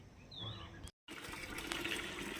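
Water pours steadily into a garden sprayer, a close rushing fill with a brief silent break before the flow resumes.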